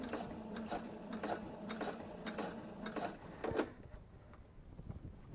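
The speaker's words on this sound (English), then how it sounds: "my machine's going to take one more stitch forward and then go back, forward, 1, 2, 3" A sewing machine stitches a bag made from a jelly roll, running a few stitches forward and then backstitching, in short rhythmic bursts of mechanical clatter, close and fairly quiet, with no talk.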